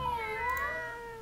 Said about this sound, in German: Hört sich zwar an wie Au, aber dafür sieht das Kätzchen zu glücklich aus.